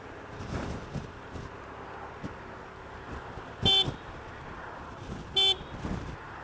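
A car's standard electric diaphragm horn gives two short, sharp beeps about two seconds apart, close and loud over quiet outdoor background noise on a cold morning.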